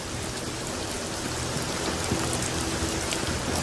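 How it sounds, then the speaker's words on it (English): Heavy rain pours down steadily on a wet camp, a dense, loud, unbroken hiss with no voices. "Olar and James experience another downpour with those who are already in camp"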